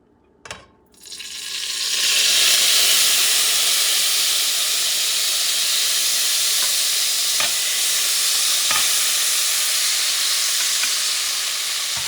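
Oil or fat heats in a Puerto Rican caldero over medium-high heat: after a brief clatter, a loud, steady hiss and sizzle swells up and holds, with a few light scrapes or clicks, no talking.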